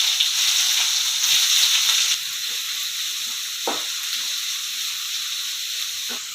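Onions frying in hot oil with cardamom, bay leaf, cinnamon and clove for Chettinad chicken curry, a loud sizzle that drops in intensity partway through, with a few stirring scrapes.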